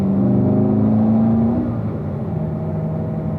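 A car engine on a racetrack straightaway pulls hard in third gear, its whine climbing in pitch, then drops as the shift into fourth lands and the engine settles into a steady, loud drone.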